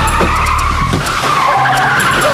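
Car tires skidding loudly as the car is driven off down an alley, a sustained close screech over engine roar that continues throughout without pause.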